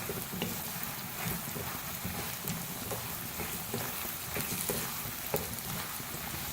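Turmeric and salt are stirred into a moringa root pickle, with a soft, continuous scraping and rustling marked by scattered small clicks from the spoon, close by and fairly quiet, with no talking.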